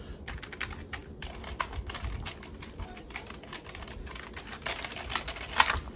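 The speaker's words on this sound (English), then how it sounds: "Keyboard, keyboard, keyboard." Rapid, uneven clicking of keys on a computer keyboard, close up and continuous, with occasional louder key strikes and no voices.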